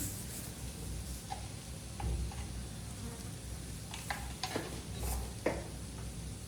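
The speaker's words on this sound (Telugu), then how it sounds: "బాగా మిక్స్ చేసుకోవాలి" Panagantaku leaves frying in a pan and being stirred, a steady low sizzle with scattered light scraping clicks, close and even throughout with no talking.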